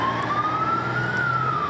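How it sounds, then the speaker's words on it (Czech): Fire tanker siren wailing steadily as the truck heads out through snowy mountain roads, a single sustained rising-and-falling tone over low engine rumble, fairly close and loud throughout. "Hasičská cisterna v zápětí vyrazila do akce."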